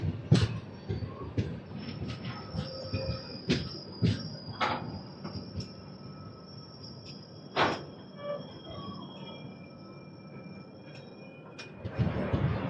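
A train stands at Ramannapet railway station, with metallic clanks, door thuds and faint wheel squeals scattered over a low background rumble, some sounds near and others distant, and brief voices.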